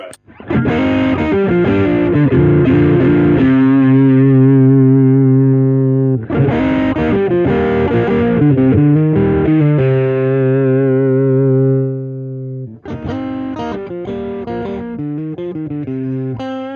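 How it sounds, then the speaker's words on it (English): Electric guitar through a Nitro drive overdrive pedal, part of a Signal Cheyne Sirius Parallel Blender setup, plays loud, sustained driven chords in three bursts with ringing decays between them, with no talking. "And Nitro drive."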